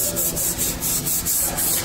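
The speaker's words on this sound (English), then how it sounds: "I'm just gonna put a glove on and just rub those down" A gloved hand rubs down the rough edges of a freshly applied faux concrete wall finish, making close, gritty scraping strokes in an even repeating rhythm without any speech.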